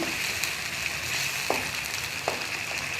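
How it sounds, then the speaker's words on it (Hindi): Spiced dum kabab masala frying in a pan, a steady broadband sizzle with a couple of faint sharp clicks from stirring, no voices. "थोड़ा भून जाए। ये ख्याल रखिएगा नीचे लगे ना"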